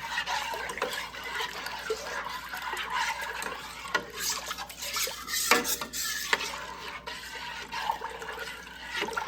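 A spoon stirs apple pie filling in a pot being brought up to temperature, with scraping and clinking against the metal sides in an irregular, moderately close rhythm and no talking.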